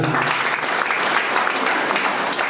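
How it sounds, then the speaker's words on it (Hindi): Vigorous applause from a crowd at a business seminar, welcoming a police officer, loud, dense and steady throughout. "हमारे पुलिस सर के लिए एक जोरदार ताली हो"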